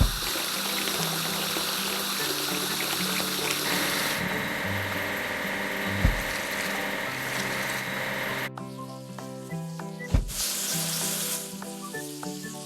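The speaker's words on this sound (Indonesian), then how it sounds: "Ayo cuci mesin pemasang rel." Water sprays and rushes while a track-laying machine is washed in a children's train-building video game, a steady hissing wash under bright game music that shifts partway through.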